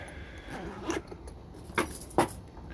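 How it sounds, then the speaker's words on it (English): A small bunch of elevator keys kept in a gray tool bag jangles in a few brief metallic bursts, close and fairly quiet over a low background hum. "random elevator keys."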